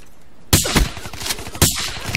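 Two loud, close pump shotgun blasts in Black Ops 3 land about a second apart, each a sharp boom followed by a short crackling tail over a quiet background.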